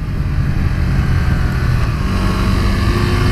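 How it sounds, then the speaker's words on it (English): A 2018 Suzuki GSX-R125 motorcycle with its small 125cc single engine runs steadily while being ridden, a loud continuous drone mixed with heavy wind rush and no clear gear changes. "That is this, frankly, quite amazing little 125cc engine."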